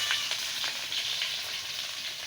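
Chopped onion sizzles in a hot pan alongside dried chillies and bay leaf, a steady broadband crackle with scattered pops, close and moderately loud, no voices.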